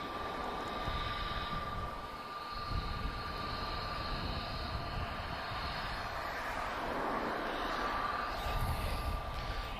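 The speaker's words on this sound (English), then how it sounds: "I can see the Embraer on the approach, so Embraer E190" An Embraer E190 airliner on approach at Lisbon Airport gives a steady, broad jet roar with a thin whine, heard from a distance and swelling slightly toward the end.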